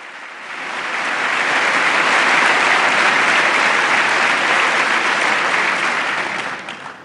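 Members of the US Congress give Pope Francis a standing ovation, a broad wash of applause that swells in, holds loud and even for several seconds, then tapers off.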